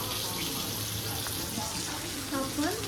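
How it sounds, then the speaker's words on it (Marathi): Fish fries in a pan with a steady, loud, close sizzle and crackle, with faint voices briefly under it near the end. "ते फिश फ्राय करते"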